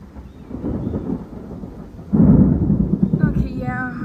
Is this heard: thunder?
yes